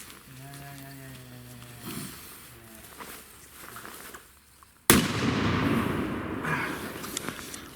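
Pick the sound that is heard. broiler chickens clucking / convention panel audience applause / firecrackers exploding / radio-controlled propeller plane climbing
firecrackers exploding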